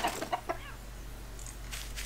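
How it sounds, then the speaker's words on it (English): A few quick clucks from video game chickens in a Garry's Mod animals mod at the start, then a faint rustle and some soft noises against a steady low background hum. "Next up, we have chickens."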